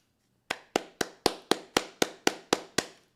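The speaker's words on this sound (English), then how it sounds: "we can clap it up for Spider-Man" Ten sharp, evenly spaced hand claps from a single person on a livestream, close and crisp in a steady rhythm after a brief silence.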